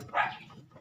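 A single short bark from a dog at home in the morning, faint and brief, followed by quiet background.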